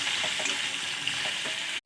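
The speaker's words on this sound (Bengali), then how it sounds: "এছাড়া কাঁঠালের আলুটা অল্প ফ্রাই করে নেব" Jackfruit chicken potatoes fry lightly in hot oil with a dense, even crackling sizzle close by, then a sudden cut to silence at the end.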